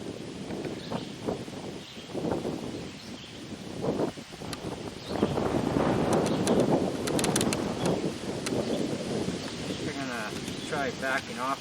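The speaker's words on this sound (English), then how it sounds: "Considering it's got some wind out here" Gusty outdoor wind buffets the microphone in uneven surges, with rustling and someone talking over it at close range.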